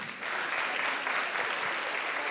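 An audience claps for KCPE candidates standing at an annual school day at Al-Ameen Academy, a steady wash of applause that holds throughout the brief moment.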